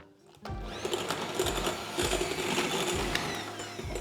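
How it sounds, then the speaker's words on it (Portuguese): An electric stand mixer whirs continuously as it beats sponge cake batter for a white chocolate pão de ló, a steady close motor drone with a faint rhythmic knock from the beaters. "a parte que precisávamos da batedeira está feita"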